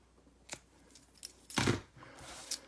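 Scissors trim small paper craft pieces for a stamped card, a few quiet snips with one fuller cut in the middle, close-up and faint in a quiet room.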